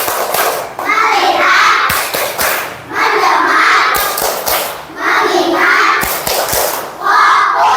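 A primary school class chanting together in a rhythmic 'tepuk fokus' routine, children's voices in unison punctuated by sharp claps and thumps at regular beats, loud and close in the room.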